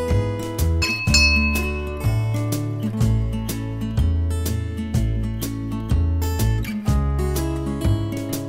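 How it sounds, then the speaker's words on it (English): A Land Rover-themed bell rings out a repeating ding-dong chime melody, its bright tones fairly loud and steady with no talking. "I'll show you his Land Rover bell."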